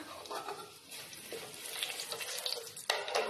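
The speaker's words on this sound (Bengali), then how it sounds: "আর ফোড়নে দেব দুটো শুকনো লঙ্কা দুটো তেজপাতা" Dried red chillies and bay leaves sizzle in hot oil as a tempering for an egg and dal curry, a steady close crackling hiss that builds and stays loud throughout, with no voices.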